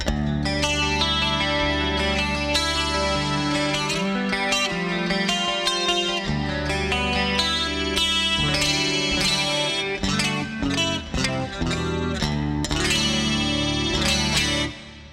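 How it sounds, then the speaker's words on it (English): Full-band electric guitar on a Fractal FM3, a clean 80s tone with analog chorus after a multiband compressor, playing a steady riff with a lush, wavering chorus, loud and continuous with dense harmonics. "So let's use a chorus block straight after the multiband compressor there."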